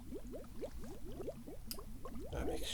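Liquid pours into a mixture with a rapid run of gurgling, glugging bubbles, close and fairly quiet, ending in a brief splash and wet shuffle.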